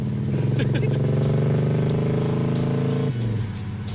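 A car engine strains at high, steady revs while struggling to shift into third gear, a loud buzzing drone that holds, then dips briefly as the pitch drops near the end; a voice talks over it.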